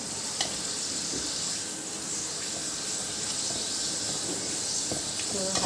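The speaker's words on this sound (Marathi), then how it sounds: "आता आपण पापड तळून घेऊया" Moong and urad dal papad fry in hot oil with a steady, close bubbling sizzle and hiss, broken by a few faint clicks and stirs, with no talking.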